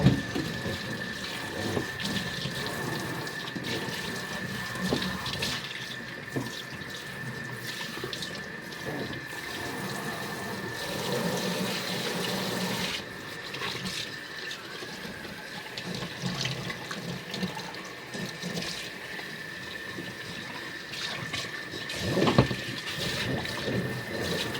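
Tap water runs steadily into a utility tub while it is being rinsed after scrubbing soap scum, a continuous splashing gush at close range, with no talk.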